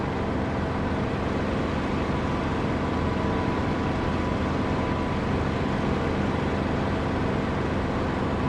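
A Supermarine Spitfire's piston engine drones in a flight simulation game, a steady, loud, unbroken roar with a constant pitch for the whole stretch and no voices over it.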